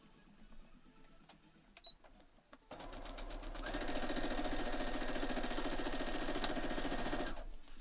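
Sewing machine stitching a foundation paper-pieced quilt block for a D20 design, a steady, fast mechanical whir that starts after a few soft handling sounds and runs continuously for several seconds before stopping.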